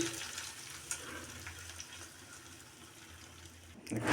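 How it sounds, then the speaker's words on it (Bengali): Tempering (baghar) poured into a pan of browned paste for khichuri gives a soft, steady frying sizzle, with a louder splash and hiss at the end. "এখন এই যে বাগার দিয়ে দিচ্ছি।"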